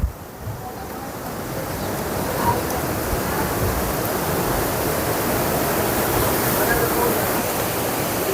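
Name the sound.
river water flowing over rocks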